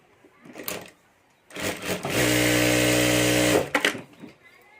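A sewing machine stitches two purse pockets together in one steady run of about a second and a half, close and loud, framed by quieter handling sounds before and after.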